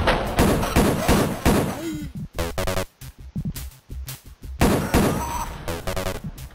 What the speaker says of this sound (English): So yeah, we get a new pistol.